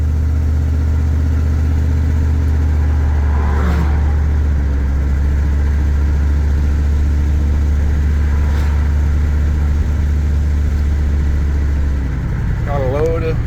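A car engine with a faulty muffler drones steadily, a loud low rumble running throughout at close range, with a voice briefly heard near the end.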